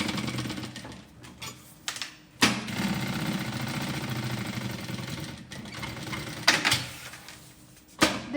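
A sewing machine runs in sustained bursts of rapid stitching around the back panel of a bag, pausing between runs with short mechanical clicks and knocks as the fabric is repositioned.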